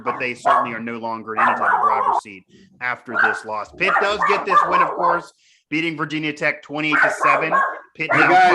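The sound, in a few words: dog barking in office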